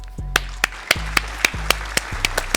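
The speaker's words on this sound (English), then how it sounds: "Give him a hand clap" Sharp, evenly spaced hand claps, about ten in under three seconds, ring out close and loud over a low steady bass tone.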